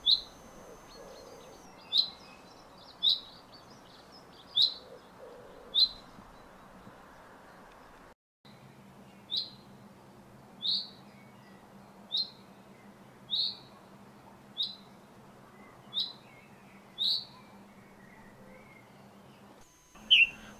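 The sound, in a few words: male chaffinch zip-zip call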